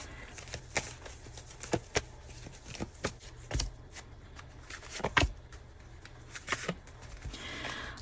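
Tarot cards are shuffled by hand nearby, giving a series of crisp riffling and slapping bursts at irregular intervals over quiet background, with no speech.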